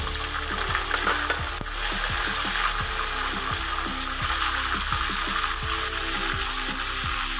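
Onion paste added to oil with cinnamon, cardamom, black pepper, cloves and bay leaves sizzles and fries loudly and steadily, close up, with repeated scraping strokes of a stirring spoon for a mutton liver curry.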